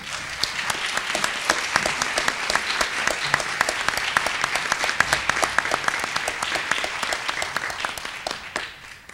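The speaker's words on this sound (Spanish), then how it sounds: "le brindamos un fuerte aplauso" Audience at a book presentation applauding, a steady, dense patter of many hands clapping at moderate distance, sustained throughout and tapering slightly at the end.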